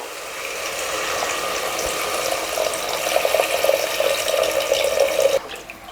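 Water, 1.5 cups for basmati rice, pours steadily into a metal cooking pot for several seconds, the pitch rising slightly as it fills, then stops abruptly.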